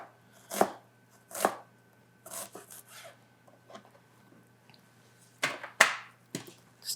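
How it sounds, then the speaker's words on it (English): A knife chops red and white onions on a cutting board, with scattered sharp chops in short bursts and quiet pauses between them. "I'm just gonna cut those up."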